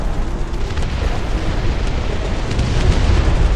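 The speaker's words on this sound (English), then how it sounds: "They have artillery over there." Artillery shells in the real-time strategy game Dust Front RTS burst in a dense, continuous rumble of loud, overlapping explosions.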